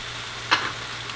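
Chopped tomato drops into a pan of frying calabacitas, a brief hiss and splash rising over a low steady sizzle, close and short.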